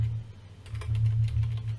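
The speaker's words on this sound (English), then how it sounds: "you can see I can type things into it, whatever I want. I can erase stuff, type in my name" Fast, light tapping on a computer keyboard, close up and fairly quiet, steady over a low background hum with no speech.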